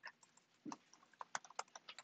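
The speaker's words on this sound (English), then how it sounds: "boy, I am struggling today typing" Quick, irregular clicks and taps of typing on a computer keyboard, fairly soft and close, with no one speaking, during a programming lesson on do-while loops.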